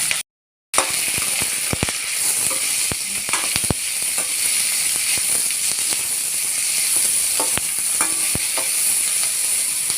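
Garlic, green chili and onion frying in a pan for a ridge gourd and spinach dish, a constant sizzle punctuated by sharp spatula clicks and scrapes against the pan, loud and close.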